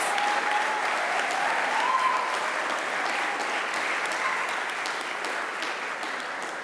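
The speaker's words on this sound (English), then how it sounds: "Let's give one more round of applause" A large crowd at a graduation ceremony applauds steadily, dense clapping that fills the room and tapers slightly toward the end.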